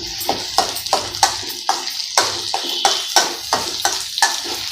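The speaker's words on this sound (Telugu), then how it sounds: "అల్లం వెల్లుల్లి పేస్ట్ వేసుకోవాలి ఒక హాఫ్ స్పూన్ వేపాలి" Ginger garlic paste frying in a pan, about half a spoon, with a loud rhythmic scrape and clatter of stirring over a steady close sizzle.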